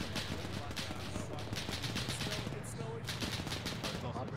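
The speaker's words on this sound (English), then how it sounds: "30 cal rounds are going through the building." In a D-Day video game battle, .30 cal machine-gun rounds rattle against and through a building, a dense, fast stream of impacts. The battle din is continuous, and faint voices are mixed in.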